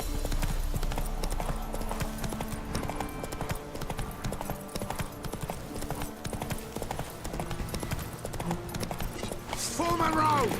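Horse galloping in The Witcher 3 video game, with rapid rhythmic hoofbeats pounding steadily throughout, alongside game sounds and a brief whinny-like tone near the end.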